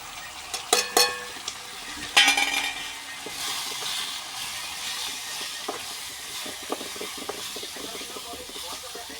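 Spice masala fries in oil for a fish curry with a steady, soft sizzling hiss, and a few sharp clinks and clatters come early on.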